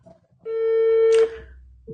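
A telephone rings once with a short, steady tone that is quiet and stands alone, followed by near silence.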